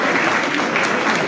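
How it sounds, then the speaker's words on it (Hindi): Applause at a prize-giving ceremony for a pigeon flying club tournament in Haripur, a dense, steady wash of clapping from a crowd sustained for just over a second. "तालियां"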